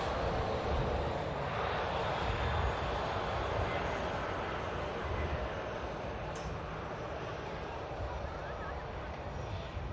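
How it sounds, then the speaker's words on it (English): A Ryanair Boeing 737 Max 8200 rolls down the runway on its takeoff run at Manchester Airport, a broad, steady roar of jet engines from some distance, faint and constant throughout. "Ryanair Max 8200 just rolling swiftly"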